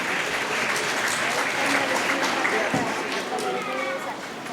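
A crowd at a community prize distribution ceremony claps steadily and loudly as a relative collects a child's prize, with a warm, dense wash of applause and faint voices mixed underneath.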